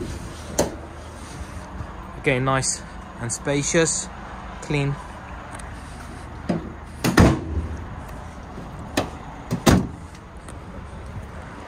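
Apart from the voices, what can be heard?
Vauxhall Vivaro van rear doors opening and closing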